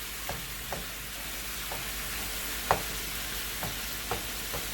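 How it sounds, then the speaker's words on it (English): Tofu browning in a frying pan for sloppy joes, a soft, steady sizzle with scattered spatula taps and scrapes, one sharper knock near the middle, fairly quiet and close, no talking. "I want to get this browned."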